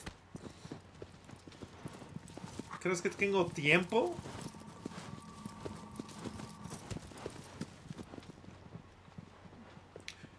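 Galloping horse hooves in Shadow of the Colossus keep a steady clip-clop rhythm while someone speaks briefly over them, with a low ambient hum underneath.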